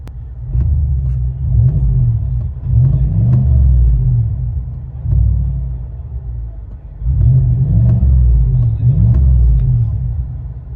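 A 2020 GMC Sierra AT4 6.2L V8 with a Flowmaster Flow FX dual exhaust, heard from inside the cab: a deep, loud rumble swelling and easing in repeated revs, a low throaty drone throughout.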